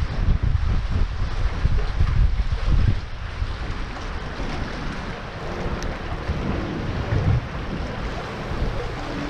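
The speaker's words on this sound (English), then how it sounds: "Super windy today" Strong wind roars across a Galveston beach, a loud constant rush and rumble against the microphone that swells and eases slightly, with no speech.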